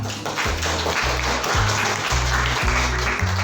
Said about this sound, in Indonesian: Oke, tepuk tangan untuk Pak.